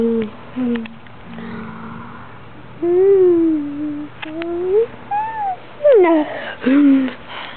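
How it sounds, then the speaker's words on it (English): A pet cat meows repeatedly at close range, a string of rising and falling cries of varied length, with a person's voice nearby between calls. "this is my kitty, Jenna."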